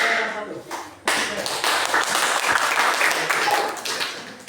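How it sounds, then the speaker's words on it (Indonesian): Students in a junior high school classroom clap for a group, a brief voice first, then a burst of lively, close applause that fades slightly before a final tap. "silakan berikan tepuk tangan dulu untuk kelompok 3 dan 1."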